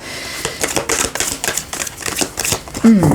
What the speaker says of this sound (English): Let's try and shuffle these a bit better.